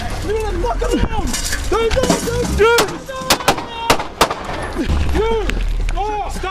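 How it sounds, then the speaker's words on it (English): Police officers fire guns during a chaotic traffic stop, a burst of sharp overlapping shots in rapid succession mixed with loud shouting voices, continuing through the struggle. "Officers discharged their firearms"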